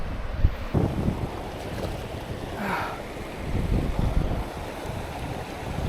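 Water rushes and splashes at a river crossing in the Scottish Highlands, close and fairly loud, with buffeting wind noise on the microphone and a few sharper splashes and thumps mixed in.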